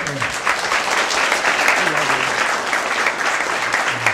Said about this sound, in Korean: 여러분들 힘찬 박수를 해주십시오